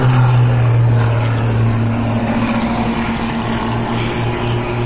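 Aerobatic propeller airplanes perform at a 2014 Lehigh Valley air show, a steady droning engine hum with a strong low tone holding throughout at moderate distance, no voices.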